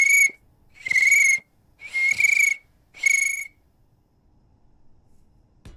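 A person imitates a cricket chirp with their voice, making four loud, whistle-like bursts in an even rhythm, each lasting about half a second, then falling silent.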